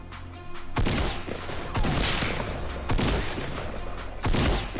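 Bursts of heavy gunfire in the Fortnite battle royale game, four loud sustained volleys about a second apart, each with a sharp onset and dense crackling, with no voices over it.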